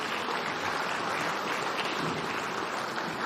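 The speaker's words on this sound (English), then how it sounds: "Another round of applause for our LA Ottaway medalists." An indoor crowd at an awards presentation night applauds medalists, with dense, steady clapping at even volume throughout.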